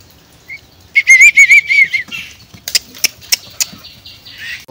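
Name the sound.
myna birds flapping wings after release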